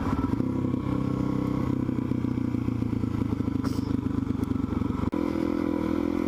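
A motorcycle fitted with street bike slick tires rides a rough dirt trail, its engine droning steadily and loudly while the bike rattles and clatters over the bumpy ground.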